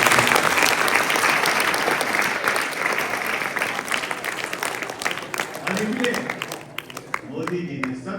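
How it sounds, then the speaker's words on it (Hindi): Loud sustained applause from a hall full of students at a constitution seminar in Bhopal, dense clapping that gradually thins out toward the end while a voice speaks beneath it. "जोरदार ताली करें।"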